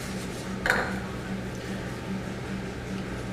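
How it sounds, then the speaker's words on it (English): A greased metal muffin pan being lifted out, with one clear clanking knock against a surface followed by a faint rattle and quiet handling noise. "I'm going to get that out just to show you what a muffin pan looks like"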